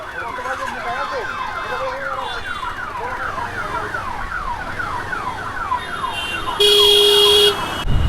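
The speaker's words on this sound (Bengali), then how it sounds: "অ্যাম্বুলেন্স ফেসে রয়েছে" An ambulance siren stuck in city traffic in Kolkata wails in repeated rising and falling sweeps over road noise, with a brief louder burst of broadband hiss near the end.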